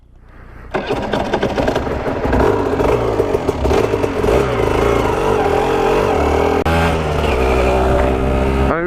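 An Aprilia RS 125 two-stroke motorcycle revs loudly and close up, its buzzing, rattly engine note rising and falling continuously as it pulls away.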